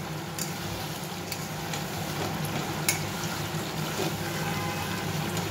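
Masala for milk katla fish kalia sautéing in oil in a pan, a steady low sizzle with occasional clinks and stirring scrapes, close and moderately quiet, without talk.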